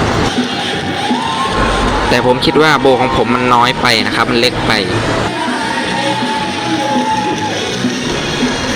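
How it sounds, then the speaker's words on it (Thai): Spectators at a company colour sports day for Si Mitr Mahachai and Piyamit Motor in 2023 cheer around a balloon-stomping game. The crowd noise is loud and busy, with shouts and whoops rising in the middle, and someone talks over it. "กองเชียร์ก็เชียร์ไปครับ"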